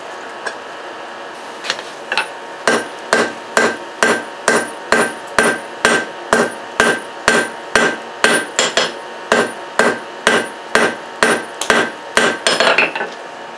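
A forge-welded layered steel billet is hammered with steady, evenly spaced ringing blows, about two per second, loud and close, with a quick flurry of lighter strikes at the end.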